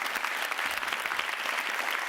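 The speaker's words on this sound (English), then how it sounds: "A round of applause for that debate." A studio audience applauds after a debate, steady dense clapping from many hands that stays loud and even throughout, with no voices over it.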